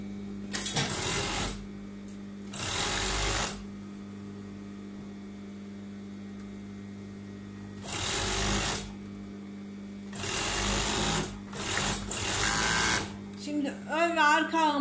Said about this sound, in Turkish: Şimdi arka ağımı dikiyorum.